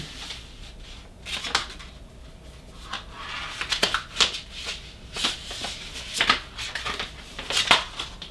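Scissors snipping through sticker tag paper at close range, a series of irregular crisp cuts and rustles spread through the clip, with no talking.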